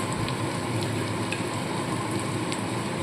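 Onion frying in oil with coriander powder and turmeric for amudi fish chorchori, a constant close sizzle and crackle, even and dense like light rain, with no voice.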